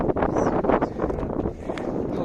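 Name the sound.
strong wind at a Kerala hilltop viewpoint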